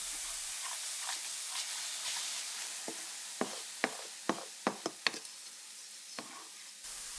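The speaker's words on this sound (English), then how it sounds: "Add your diced onion and cook it until soft and translucent" Diced onion cooks in a pan with a steady hiss and sizzle, broken by a quick run of sharp scraping taps from a utensil stirring near the middle, with no talking.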